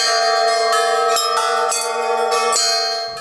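Russian Orthodox church bells ring out in repeated, overlapping strikes, with rich sustained tones hanging between each clang; no voices.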